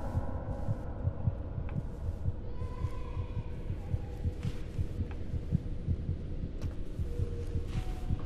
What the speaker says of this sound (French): Ce battement de cœur de l'enfer,